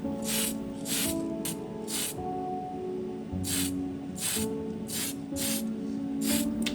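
Tamiya metal primer sprayed from an aerosol can onto a plastic military vehicle model kit, a series of short and longer hissing bursts with brief pauses between them, close and fairly quiet, no talking.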